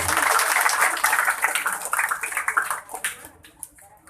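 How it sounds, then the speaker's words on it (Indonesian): An audience at an Islamic dhikr gathering breaks into a burst of applause, dense and loud at first, then thinning into scattered claps and fading out. "Tepuk tangan buat beliau."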